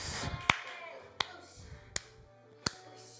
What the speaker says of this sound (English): Clap it up for yourselves, ladies and gentlemen.